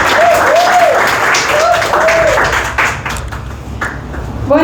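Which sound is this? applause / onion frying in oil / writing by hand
applause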